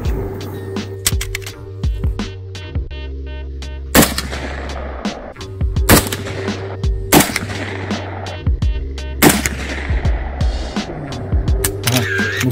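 Gunshots from Saiga TG-2 rifles, including the short-barreled version, fired at night at a 50-meter range, as loud sharp single reports spaced a second or two apart over a steady low engine-like hum.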